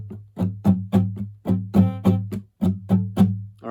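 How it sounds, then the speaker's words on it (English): Palm-muted acoustic guitar strummed in a steady verse rhythm for a song, with short, thumpy, damped chords repeating about three times a second, close and clear. "We're just going to palm mute the guitar,"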